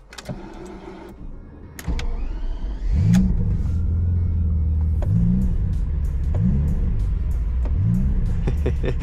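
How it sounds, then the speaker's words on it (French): A BMW 850CSi V12 cranks on its starter and catches, then settles into a loud, close, steady idle with a few brief revs rising and falling at even intervals. "écoutez le bruit du démarreur du V12"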